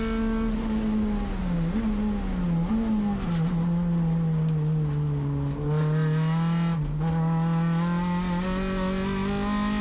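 Touring race car at full throttle on Sonoma Raceway, its loud engine drone holding steady with small pitch dips at shifts and corners, passing another car on the outside and running hard into the next turn.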